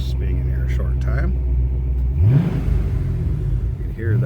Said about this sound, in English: Nice sounding exhaust.